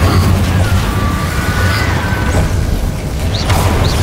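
Incendio fire spell cast in Hogwarts Legacy, a loud booming burst with crackling impacts and rumbling over a dense, continuous game soundscape, several sharp pops and crashes throughout.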